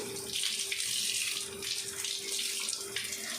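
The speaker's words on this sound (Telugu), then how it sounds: "ఇప్పుడు మనం దీన్ని వాష్ చేసుకోవాలి." Running water from a tap pours close up as goat tripe is washed in a sink, a steady splashing stream that varies as the tripe is moved under it.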